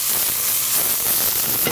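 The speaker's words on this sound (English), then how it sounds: "Splash of oil, swirl to coat, and we're gonna hear a sizzle." Oil sizzles in a very hot pan while fried rice is being cooked, a dense, steady hiss heard up close.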